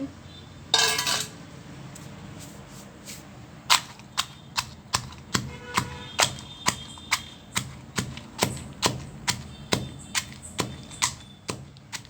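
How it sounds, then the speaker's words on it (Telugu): Green and dry chillies pounded in a mortar give sharp, regular knocks, one roughly every half second, close and distinct, following a brief rattling burst near the start. "ఈ పచ్చిమిర్చి ఎండుమిర్చి దంచేసుకుందాం"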